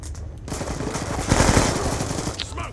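Rapid automatic fire from an AN-94 rifle in Black Ops 2, a loud continuous burst of rattling shots that swells midway and then tails off, with no voices.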